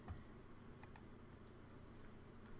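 Fairly quiet computer keyboard typing, a few soft key clicks against a steady background hum, with no talking.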